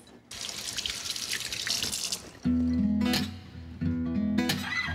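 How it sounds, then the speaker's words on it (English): Hands are rinsed under a running kitchen tap, a close, steady rush of water that changes tone as the stream hits the hands and sink, with no talking. "Let me rinse my hands."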